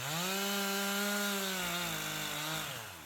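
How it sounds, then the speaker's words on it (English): A chainsaw cuts wood while felling a tree with dead branches hung in its top, a close, steady, loud drone whose pitch sags slightly under load toward the end. "I'm going to just push the tree with the chainsaw"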